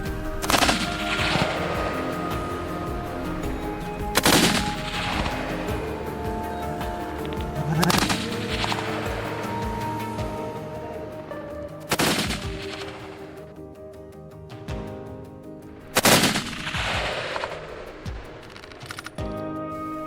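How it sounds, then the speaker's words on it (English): Gunfire rings out repeatedly during a wild boar hunt in woodland, with about six sharp, loud shots spaced several seconds apart, each leaving a ringing echo that fades into steady background noise. "Refusing to give up, he kept firing."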